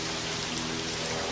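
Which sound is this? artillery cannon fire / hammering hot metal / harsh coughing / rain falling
rain falling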